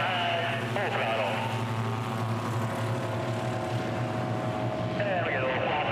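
A racing aircraft engine drones at full throttle during the 2025 National Championship Air Races in Roswell, New Mexico, a loud steady propeller roar with people talking over it throughout.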